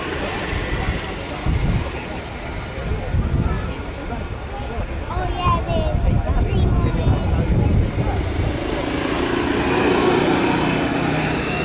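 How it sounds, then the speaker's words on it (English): An AV-8 Harrier jet taxiing into position for a short takeoff at the Battle Creek Air Show, its engine a steady, loud broadband roar and whine heard at a distance, with an announcer talking over it. "is positioning the Harrier for the short takeoff."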